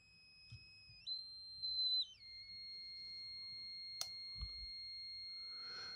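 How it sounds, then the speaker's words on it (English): A DIY function signal generator kit built from a KKmoon high-precision kit puts out steady electronic sine tones, stepping up in pitch and then back down, with a faint click and a brief burst of hiss near the end. "so it does generate tones as well"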